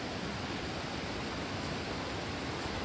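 A stream flows steadily at a river crossing in Bhojpur with no bridge nearby, a constant full-bodied rush of water close by that fills the whole stretch without pause.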